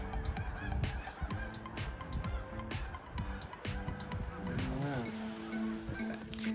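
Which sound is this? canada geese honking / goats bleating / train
canada geese honking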